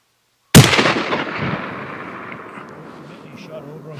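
A rifle fires once at a mule deer during a mountain hunt, a sharp loud blast after silence, followed by a long rumbling echo that rolls away across open terrain.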